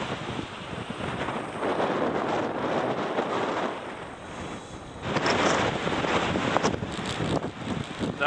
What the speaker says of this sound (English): the winds are gusting like 50 to 70 kilometers an hour